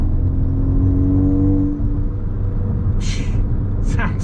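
Inside the cabin of a Ford Focus ST fitted with a big turbo, a steady engine drone with a rising whine gives way to a sharp hissing blow-off valve burst near the end.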